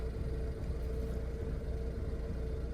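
A 2008 BMW E90 engine idles roughly with a misfire, a steady low rumbling hum heard close and continuous, with no voices.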